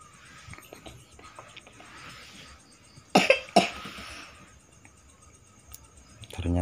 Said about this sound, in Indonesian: Ternyata ada yang batuk.